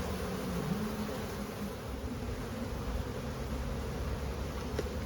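Honeybees buzz in a thick, steady drone around an open hive with supers being placed, a continuous close hum with no pauses and no voices.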